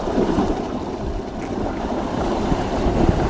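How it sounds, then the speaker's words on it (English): Loud, continuous rush of water moving through a small canal, with broad turbulent noise and some wind buffeting, close to the microphone and without voices. "A lot of water movement, my goodness."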